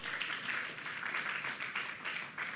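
A church congregation claps together, a faint, distant wash of applause with a loose rhythmic pulse, steady through the short moment.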